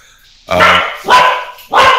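Dogs bark close by in three loud, sharp barks, each followed by a short pause, with little else in the background.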